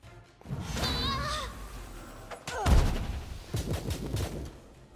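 A Magic Missile spell cast in the game Pathfinder Kingmaker, a burst of whooshing magical impacts with a sharp crack near the middle, followed by further softer hits amid game effects.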